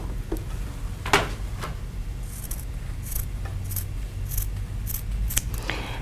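Scissors snipping through fabric quilt blocks in a few sharp, close cuts spaced irregularly over a low room hum, with no talking.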